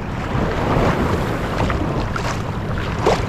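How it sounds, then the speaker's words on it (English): Big ocean waves roll in at a beach in autumn, a constant loud roar of surf mixed with heavy wind noise buffeting the microphone. "Quite big waves here."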